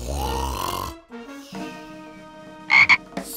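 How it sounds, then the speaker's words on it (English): Cartoon frog croaking in a few deep, bubbly, exaggerated croaks separated by short gaps, ending with a couple of sharp bright squeaks, close and clear. "A super adorable amphibian emerged from the pond."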